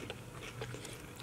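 A crunchy bite into freshly cooked bread: close, crisp crackling and chewing over just over a second.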